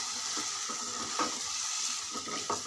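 Fresh green peas being stirred into a sizzling paneer curry in a pan, with a steady frying hiss under a few soft scraping stirs of a spoon.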